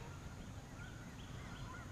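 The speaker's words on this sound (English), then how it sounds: "Ain't got much use for geese." Faint, distant geese honk in scattered calls over a steady low background hum, with no one talking.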